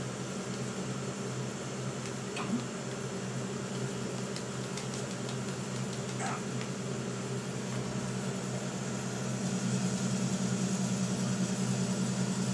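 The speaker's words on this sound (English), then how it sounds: "I thought the engine room was too loud to be alerted." A steady, droning engine room hum fills a stealth scene in Metal Gear Solid 2, a constant mechanical rumble with faint clicks and clanks scattered over it.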